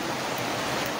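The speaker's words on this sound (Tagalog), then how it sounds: "Lakas ng tubig." Strong floodwater rushes past a riprap embankment during a flood, a loud, steady broadband roar with no break and no voices.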